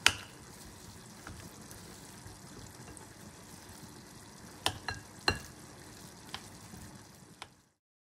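Stuffing for stuffed pasta shells being mixed with parsley in a bowl, a soft steady scraping and stirring with a few sharper clicks of the utensil against the side, fairly quiet, with no talk.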